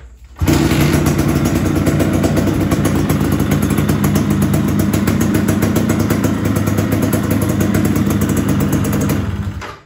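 A long-unused motorcycle engine kicks into life and runs loud and steady close by, a clattering idle that holds unbroken until it cuts off.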